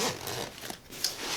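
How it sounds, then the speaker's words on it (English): Zipper pulls are dragged closed on the pockets of a Hynes Eagle 44L travel backpack, with a couple of quick, close ratcheting strokes in quick succession. "Zip those back up."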